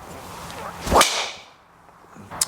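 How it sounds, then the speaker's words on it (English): A single sharp, loud crack of a Ping G425 Max golf driver hitting a ball outdoors, with a brief whooshing tail and a fainter click afterward. "there's a very distinctive sound of the Ping driver"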